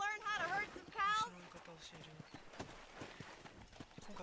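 Hooves of a horse clip-clop rhythmically while riding to herd cows in the video game Red Dead Redemption, with a short burst of human voice at the start and steady galloping beats continuing after.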